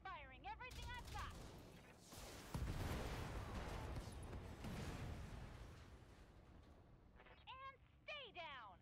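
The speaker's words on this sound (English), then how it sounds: "Firing everything I've got." Mech weapons in the Battletech video game open fire in a heavy burst of booming, crackling blasts that rumble on for several seconds. A voice speaks just before and again after the barrage.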